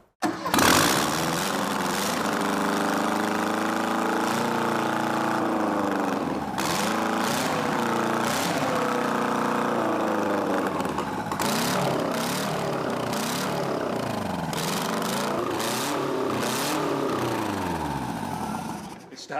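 A 1976 SAAB 96 engine, mounted on a bench and fed power to the coil, catches immediately and runs loud and steady, its revs rising and falling repeatedly, with voices faintly underneath.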